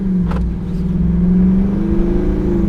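A Jeep Wrangler 392 V8 accelerating hard on the road, heard from inside as a loud, deep, steady engine roar whose pitch climbs gradually under throttle, with a brief faint noise early on and no speech.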